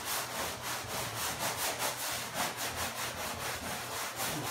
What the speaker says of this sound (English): and when you sand it, it makes it smooth.